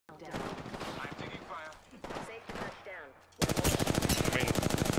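Gunfire in the Apex Legends video game: bursts of automatic weapon fire broken by short pauses, ending in a loud sustained volley, with a voice speaking between shots.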